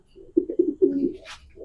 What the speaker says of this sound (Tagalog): Ito po yung ibon na nagpanalo.